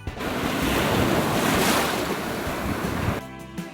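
Sea waves wash against the shore at the Latvian seaside, steady and loud, with strong wind buffeting the microphone throughout and no voices.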